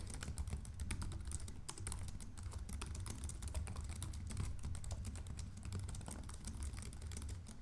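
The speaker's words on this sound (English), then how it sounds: "This is a typing test of the Lenovo Yoga Slim 7 Pro." Continuous fast typing on a Lenovo Yoga Slim 7 Pro laptop keyboard, with soft, rapid key clicks heard up close and quiet throughout, without any voices.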